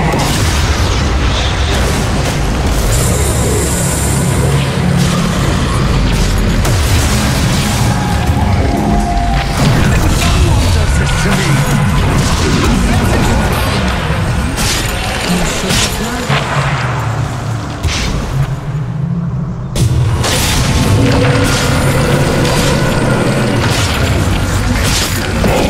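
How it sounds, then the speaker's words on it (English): In a Dota 2 match, the Radiant middle tower comes under attack and falls: loud, sustained battle noise with repeated booms, crashes and mechanical impacts rolling on without a break. "Radiant's middle tower is under attack"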